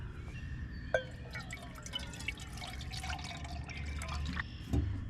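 Boiling water trickles and splashes close by at a campsite, a continuous liquid pour with occasional drips and clinks over a low rumble, beside an Esbit stove with a windscreen.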